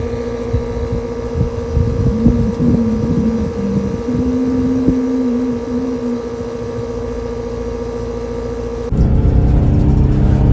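An HVAC system runs in second stage with a steady, close mechanical hum and a wavering tonal drone that gives way to a louder, rougher rush near the end.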